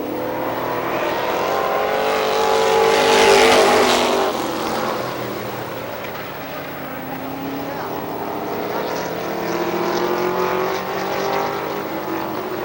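Race cars lapping at Star Speedway in New Hampshire: loud, sustained engine roar that swells as the field passes close, eases off, then builds again, with a commentator talking over it.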